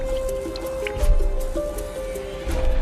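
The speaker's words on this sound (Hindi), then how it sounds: "मेरे ऊपर वाले सेल से मेरी लाइट में पानी लीक हो रहा था" Water leaks through a light fitting in a prison cell, dripping in a run of small, irregular plinks and squishy drops over a low background rumble.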